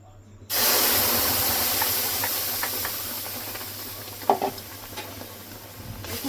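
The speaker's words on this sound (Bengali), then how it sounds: "কড়াই বসিয়ে দিয়েছি, গরম হয়ে গেছে। আমের পাল্পটা ঢেলে দেব।" Mango pulp blended with sugar and milk pours into a hot wok with a sudden loud hissing sizzle that slowly fades, broken by a few soft stirring clicks.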